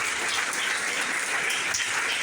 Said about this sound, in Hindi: इसके लिए जब भी मौका मिले ताली बजाएंगे।